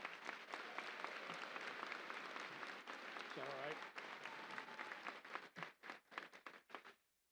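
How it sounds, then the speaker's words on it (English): A large commencement audience at a Fall 2022 graduation ceremony applauds in a dense, sustained wash of clapping that thins into scattered individual claps before fading out. A voice briefly speaks over it. "I would be thankful if all of you would give her a round of applause"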